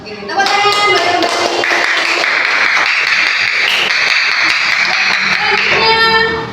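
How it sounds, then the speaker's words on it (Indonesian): A class applauds together in a steady, full stretch of clapping that lasts several seconds, with voices mixed into it. "tepuk tangan buat kembali"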